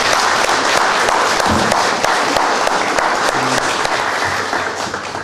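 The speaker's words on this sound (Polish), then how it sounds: "Brawa dla nich za wytrwałość" Audience at an art fair's final gala in a Mszana Dolna manor clapping for the artists, loud dense applause throughout, a few low voices murmuring underneath, tapering slightly near the end.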